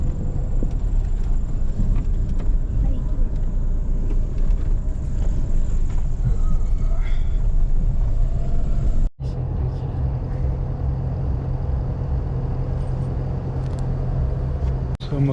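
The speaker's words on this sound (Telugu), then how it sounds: "ట్రాఫిక్ బాగుంది వీకెండ్ వల్ల." Weekend road traffic on the way to Ananthagiri Hills: a steady rumble of passing cars and heavier vehicles, loud and close, with a brief drop-out partway through.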